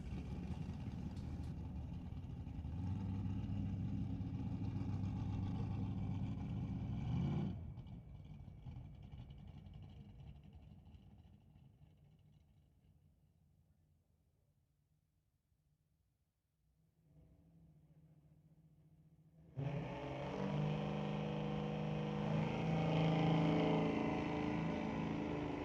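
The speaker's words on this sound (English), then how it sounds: "Racing off against Josh Klosky in the 90 S10 Blazer" A drag race at a Lordco Auto Parts Smoke Fire and Thunder event with a 1990 S10 Blazer: loud engines roar close by, fade to near quiet, then a fresh engine blast returns sharply.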